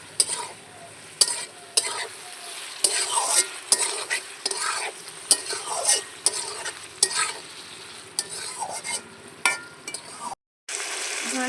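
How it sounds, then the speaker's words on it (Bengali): Ground spice paste and mixed vegetables sautéing in a pan, with a steady sizzle and frequent scraping stirs of a spatula, close up, ending in a brief silence before the sizzle returns. "বেটে রাখা মশলাগুলো আমি সবজির মধ্যে দিয়ে দেবো, দিয়ে ভালো করে কষিয়ে নেব।"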